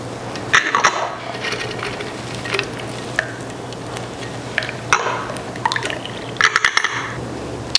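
A cocktail strained into a chilled coupe glass, with a steady liquid pour and splashing plus a few scattered clinks and drips, close and fairly loud, with no talking.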